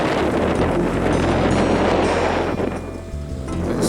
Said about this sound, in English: It's still blowing probably 20-30 miles an hour gusts.